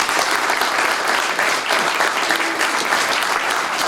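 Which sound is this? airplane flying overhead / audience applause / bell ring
audience applause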